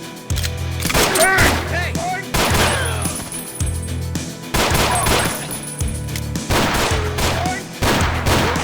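Enemy gunfire in the post-apocalyptic shooter Ashes: Afterglow comes in repeated loud bursts of rapid shots, close and heavy, recurring every second or two over game background sound.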